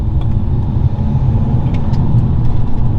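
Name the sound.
BMW E90 320D engine revving with Ramair induction kit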